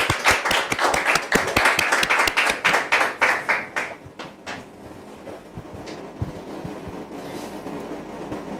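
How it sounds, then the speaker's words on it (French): A church congregation applauds in quick, rhythmic claps for about four seconds, close and fairly loud, then the clapping fades into a murmuring room with scattered faint sounds. "Est-ce qu'on peut rendre gloire au Seigneur, s'il vous plaît, par des applaudissements, des acclamations?"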